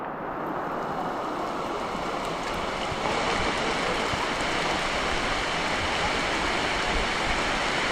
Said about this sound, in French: Il fait que pleuvoir